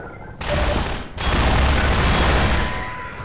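Sustained rapid gunfire in Half-Life 2 from a weapon shooting blue bullets. A dense, loud fusillade starts abruptly, breaks off for a moment, then resumes and rattles on before fading slightly.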